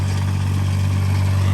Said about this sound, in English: We're gonna go ahead and drive it over there, Ben. Turn up your throttle.